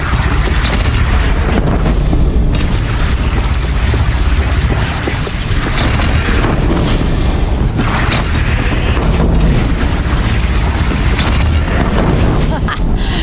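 A cannon fires amid a loud battle, with repeated heavy booms over dense constant noise and shouting voices throughout.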